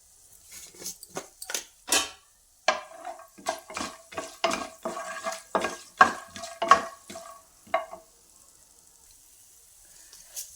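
Peanuts and coriander seeds fry in oil in a pan for a coriander tomato pickle, with a run of rattling, scraping stirs and clinks against the pan over a light sizzle.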